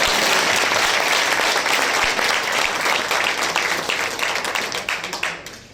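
A crowd at a farmers' event with a chief minister claps loudly in sustained applause, a thick wash of many hands that thins out and fades near the end.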